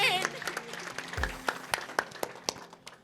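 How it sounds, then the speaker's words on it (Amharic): A gospel church congregation claps during a service, with scattered sharp handclaps building into a loose rhythm after a voice speaks briefly at the start. "አጨብጭቡ ለጌታ ክብር"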